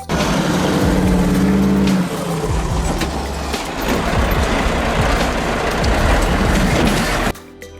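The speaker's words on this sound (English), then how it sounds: "This tractor is working hard to get out of the mud trap." A heavy tractor's engine roars and labours as it strains to pull out of deep mud, rear tires sinking; loud, sustained and close, with shifting pitch as the load changes, cutting off abruptly at the end.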